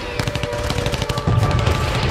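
Machine-gun fire returns in rapid, evenly spaced bursts, loud and close, with a slight swell partway through and no talking.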